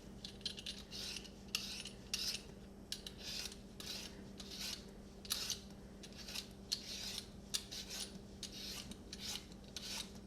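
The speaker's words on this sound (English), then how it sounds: "We're just going to get in here and peel these guys." Potatoes being peeled by hand in a kitchen, a run of quick, close scraping strokes with short pauses between them, fairly faint, with no talking.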